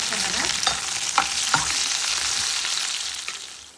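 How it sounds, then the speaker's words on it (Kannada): Onions frying in hot oil with mustard seeds and curry leaves, a loud continuous sizzle close up, with a few soft scrapes of a spoon in the pan. "ಈಗ ಈರುಳ್ಳಿ ಹಾಕ್ಕೊಂಡು ಫ್ರೈ ಮಾಡ್ಕೊಳ್ಳೋಣ."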